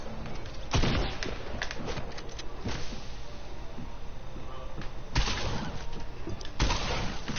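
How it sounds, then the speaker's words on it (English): Shotgun blasts ring out in a video game firefight set in a cornfield, a few loud sharp booms spread over a steady background of game noise. "These dudes got shotguns."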